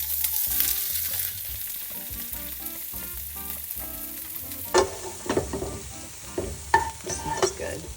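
White parts of green onion and bok choy hit hot vegetable oil in a pan, giving a steady sizzle, then louder crackling bursts and scraping stirs as the vegetables are tossed, close and without talk.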